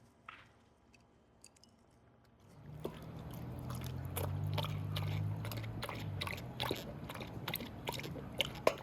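Soft nugget ice from a countertop ice maker is chewed close up, a run of quiet, squishy crunches after a near-silent start.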